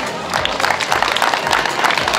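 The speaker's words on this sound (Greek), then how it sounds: "Ευχαριστούμε πολύ, χειροκρότημα." A crowd at a 2024 para athletics meet claps throughout, a dense and fairly loud wash of applause with no voices standing out.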